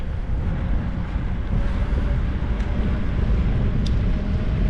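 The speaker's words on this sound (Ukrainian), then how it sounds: "Погано, що вітер зараз мені в лице" Steady, heavy wind rumble buffeting the microphone while riding a bicycle downhill in Poltava, a continuous low roar without pauses and no voices.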